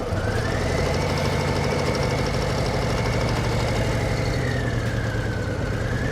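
A motorcycle engine idles and revs during clutch and throttle practice, giving a steady, close, rumbling drone with a gentle rise and fall in pitch as the throttle is worked.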